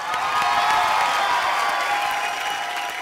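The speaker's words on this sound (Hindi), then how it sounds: "जोरदार तालियां।" A studio audience at a comedy show bursts into steady applause mixed with cheering, a dense, loud crowd roar that holds throughout and eases off slightly near the end.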